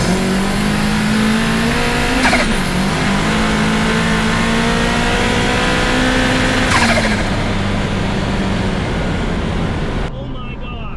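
A 500-horsepower Mazda Miata race car accelerates hard from 100 to 200 km/h, its engine note climbing steadily in a loud, sustained roar broken by two sharp gear shifts before cutting off near the end.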